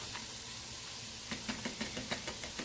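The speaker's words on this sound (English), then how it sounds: "We are going to throw in our onions and peppers." Onions and peppers sizzle in a hot pan with a steady, faint hiss, joined partway through by a quick run of light, regular knocks as the vegetables are stirred or tossed.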